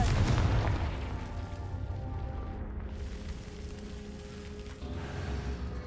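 A Confringo spell explodes in the video game Hogwarts Legacy with a deep boom at the outset, then trails off into a low, rumbling tail with a lighter burst near the end.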